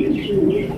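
Pigeons of a Shokhing breed from a market coo in a brief, low, soft murmur, close by and steady, with no clear talking over it.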